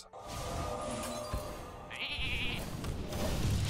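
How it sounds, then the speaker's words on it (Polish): A sheep bleats in the card game Hearthstone, a short electronic-sounding bleat mixed into steady game music and ambient effects, fairly loud and close. "Owca. Jest owca."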